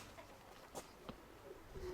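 A cream-tailed pigeon coos softly a few times, faint and close, against a quiet background.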